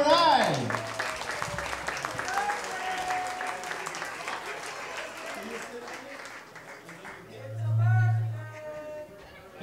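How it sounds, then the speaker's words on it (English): Crowd at a live music show applauds, a lively clatter of clapping and a few whoops under a performer speaking into the microphone, fading out after several seconds as a low tone swells. "Give her a round of applause"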